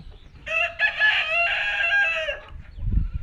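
Tiger breed chickens on a farm, with a rooster's clear, drawn-out crow rising loud and close above soft background clucking and rustling, ending in a low thump.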